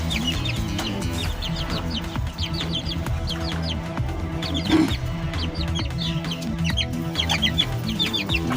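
English game chickens and chicks clucking and cheeping continuously in a coop, with a rooster's calls mixed in and a persistent low hum underneath.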